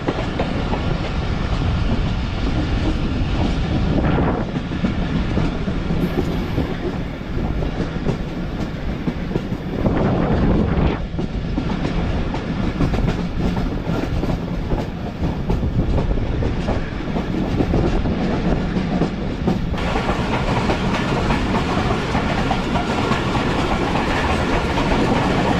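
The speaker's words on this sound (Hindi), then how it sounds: "ट्रेन अब आहिस्ता हुई है" The Khyber Mail passenger train rolls along the rails in Pakistan, a loud, close, continuous rumble with rhythmic clickety-clack from the wheels, heard from onboard as it slows.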